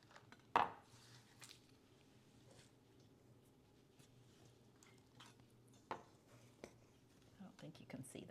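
Chopped olives tumble into a bowl with a sharp clatter near the start, followed by quieter scraping and knocking against the bowl, one more soft thud later, and speech murmuring in the background.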